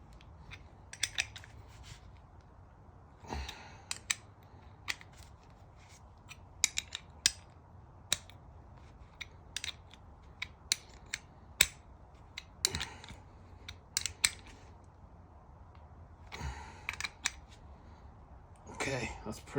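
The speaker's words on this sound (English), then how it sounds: "Now you tighten these two with the 10mm." Sharp metallic clicks and ticks from a 10mm spanner tightening brake line fittings on a car's brake lines, coming in scattered single and clustered bursts over a low steady background hum.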